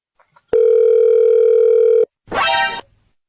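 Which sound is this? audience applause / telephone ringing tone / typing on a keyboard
telephone ringing tone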